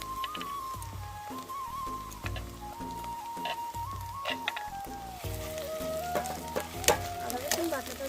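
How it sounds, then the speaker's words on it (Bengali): Ginger garlic paste frying in a pan after onions, a crackling sizzle broken by stirring scrapes, close by, with a faint voice underneath at times. "আদা রসুন বাটাটা দিয়ে আমি আগে ভালোভাবে ভেজে নেবো"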